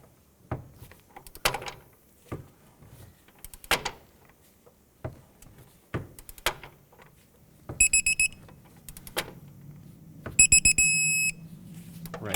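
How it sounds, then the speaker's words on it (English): A torque wrench tightens a sway bar link nut to 66 foot-pounds on a 2003-2007 Nissan Murano: sharp ratcheting clicks and knocks, then two bursts of loud electronic beeping as target torque is reached, close in a quiet garage. "Okay, now let's torque it."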